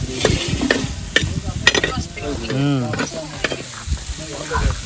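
Mussels sizzle and fry with masala on a hot griddle while a utensil stirs and scrapes in irregular bursts, with brief background voices.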